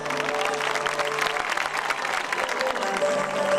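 Festival audience applauding a singer as she is welcomed on stage, dense steady clapping with some crowd noise and faint tones underneath, sustained throughout.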